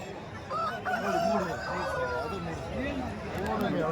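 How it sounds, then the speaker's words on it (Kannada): A rooster crows amid clucking chickens at a country chicken market while people talk nearby, the crow rising and falling at moderate distance. "ಒಂದು ಎರಡು ಹುಂಜ ಇದೆ"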